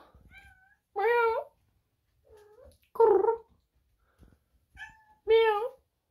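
A cat meows three times close by, with separate drawn-out calls and quiet pauses between them, plus a few faint softer sounds.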